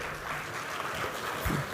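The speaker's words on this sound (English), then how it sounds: "A big round of applause" Audience applause at a university research conclave, a brief diffuse patter of many hands clapping, somewhat distant and fairly faint.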